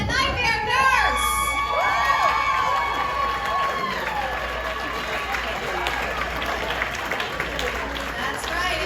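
Convention audience cheering, whooping and applauding for a cosplay contestant named as the winner, with a loud continuous crowd roar, shrill shouts and voices throughout.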